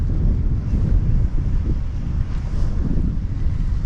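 Strong wind buffets the microphone at the mouth of the River Usk while sea fishing, a loud continuous low rumble with gusty fluctuations and a faint wash of water beneath.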